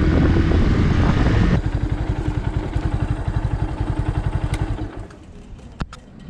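A Kawasaki W175 motorcycle engine runs loud and close, revving briefly before dropping into a rapid, even thumping idle that continues for several seconds, then the rhythm fades down with a few sharp clicks.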